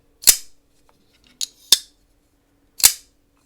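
Four crisp metallic clicks of a Hinderer Jurassic Hollow Slicer folding knife flicked open by its thumb studs and snapped shut, close and isolated, spaced irregularly with silence between.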